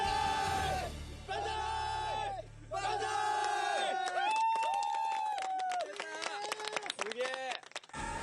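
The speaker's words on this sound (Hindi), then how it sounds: "और जोरदार तालियां।" A game show studio audience at Takeshi's Castle roars with loud, sustained group shouts and cheering in several bursts, broken by short gaps and sharp crackling noises toward the end.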